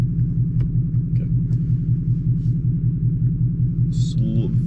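A manual-transmission car with an MT82 gearbox idles close by, a steady low rumbling engine pulse that runs evenly throughout, with a brief faint voice and a short squeak near the end.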